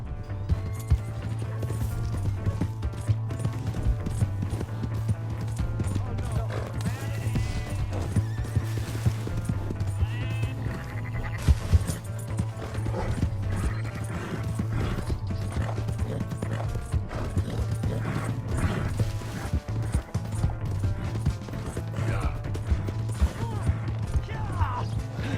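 In Red Dead Redemption 2, a horse's hooves beat steadily in a continuous galloping clip-clop under a constant low game rumble, with occasional neighs and people talking over it.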